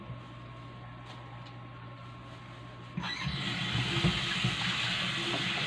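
Kitchen tap turned on for washing up: low background hum, then water suddenly starts splashing and streams steadily into the sink, close and moderately loud, no talk.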